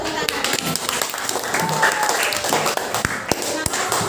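Fifth-grade children in a classroom clap together, a scattered patter of small hands with sharp individual claps, mixed with chatter and voices in the room.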